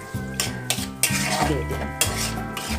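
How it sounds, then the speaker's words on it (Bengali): Onions sautéing in a pan with a pinch of salt, a steady close sizzle with stirring scrapes, under a tonal musical backdrop and a brief spoken phrase. "পেঁয়াজটাকে একটু হালকা করে আমরা আগে সটে করব"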